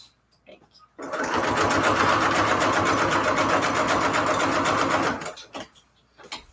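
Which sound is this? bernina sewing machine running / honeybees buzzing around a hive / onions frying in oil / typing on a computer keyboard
bernina sewing machine running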